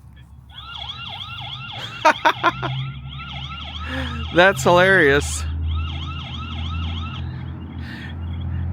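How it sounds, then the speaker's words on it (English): A loud electronic siren from a solar-powered wireless security camera wails in repeating up-and-down sweeps, briefly interrupted by a few sharp bursts and a short warbling tone, with a person speaking briefly. "This siren is loud, may disturb your neighbor."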